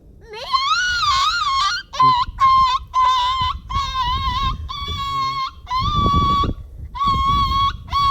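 Someone mimics a cat, giving a series of wavering, high meows one after another, loud and close, with short pauses between calls.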